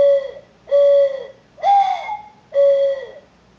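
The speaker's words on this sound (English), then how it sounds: "this is a dove call used to call in doves" A hunting dove call blown in four separate mellow whistled coos, each about half a second long with short gaps between, close and clear with nothing else audible.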